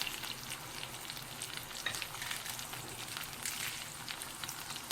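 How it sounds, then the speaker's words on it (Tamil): Dry chillies, cumin, curry leaves, coriander, rice and pepper roasting in a pan, giving a continuous crackling sizzle with frequent stirring scrapes, close and steady throughout, with no talking. "இதையெல்லாம் நல்லா வணக்கிக்கோங்க, பொன்னிறமாக வர வரைக்கும்."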